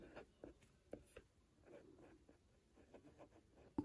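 A pen writing on paper while a study summary is made, with faint, close scratching strokes in short bursts and soft pauses between them, and no voices.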